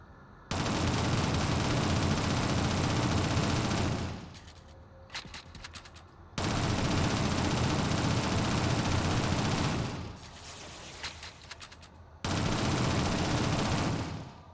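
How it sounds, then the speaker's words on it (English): SMG bursts roar in the 2007 video game Shadowrun, three long sustained volleys of rapid fire, each lasting a few seconds, separated by short lulls filled with scattered clatter and effects. "Use your SMG to clear it now"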